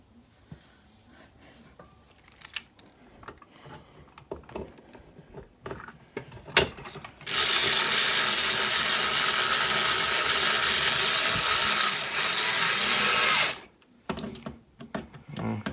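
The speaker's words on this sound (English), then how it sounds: "now we're going to put in the bottom screw" Power screwdriver whirring steadily for about six seconds as it drives the bottom screw into a demonstration fire alarm pull station, preceded by light handling clicks and followed by quiet fumbling.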